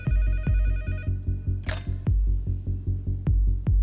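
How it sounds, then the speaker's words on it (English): A telephone bell rings loud and close in quick, evenly spaced electronic pulses that repeat throughout, with a brief hissing burst in the middle. "90 minutes after the attacks begin, the phone finally rings."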